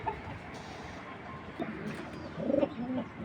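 A racing pigeon coos softly, a few low, faint murmuring calls near the end over a quiet, noisy background.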